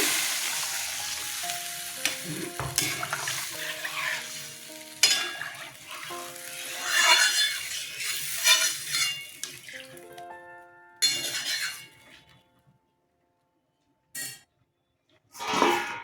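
Water poured into sautéed masala for a fish curry with ridge gourd makes a loud burst of sizzle and bubbling, along with stirring sounds, that fades quickly to quiet, then a few brief clatters follow.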